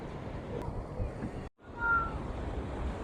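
Surf rolls in at high tide on a quiet, uncrowded sea beach, giving a low, steady wash of water that cuts out briefly midway and then resumes.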